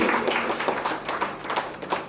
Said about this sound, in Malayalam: അത് നൽകിയ നമ്മുടെ ചെയർമാന്, നമ്മുടെ മാനേജ്മെന്റ് ഒരു ബിഗ് ക്ലാപ്പ് കൊടുക്കാം.